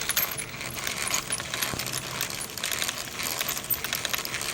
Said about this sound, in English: So let's zoom in a little bit here and we'll look at the rear differential. Now when I spin this a little faster,